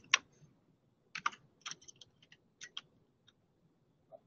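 Keyboard keys pressed for an Excel shortcut, Alt H F I D, in crisp separate clicks grouped in short bursts with pauses between, quiet and close, no talking.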